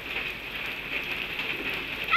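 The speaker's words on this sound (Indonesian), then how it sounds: "Kita mandi hujan." Steady rain falls on a surface outdoors, an even hiss of many drops that holds level throughout with no voices.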